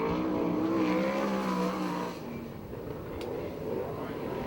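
A USAC/CRA sprint car runs a qualifying lap at Perris, California, its engine roaring loud and close with a rising, revving drone that eases back midway as the car passes on.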